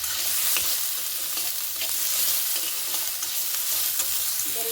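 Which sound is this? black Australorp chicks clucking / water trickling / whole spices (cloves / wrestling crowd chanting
whole spices (cloves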